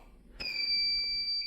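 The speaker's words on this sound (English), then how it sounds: "I don't know if that alarm system is on." A smoke detector in an abandoned restaurant kitchen gives a single sustained high-pitched electronic beep. It starts abruptly after a faint thump and rings steadily and fairly loud over quiet room tone.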